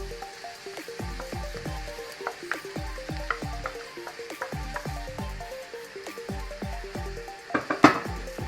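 Shrimp and mushrooms cook in a pan, a soft steady sizzle under repeated clinks and scrapes of a utensil against the pan, with a sharper knock near the end and no talking.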